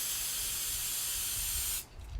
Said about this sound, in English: give it a good healthy spray inside of the tool.